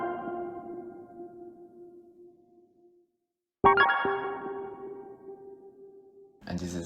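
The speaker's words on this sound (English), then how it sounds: "So for the second sound I'm layering these keys." Two struck keyboard chords ringing out and decaying, separated by a brief silence, with a third chord starting at the very end.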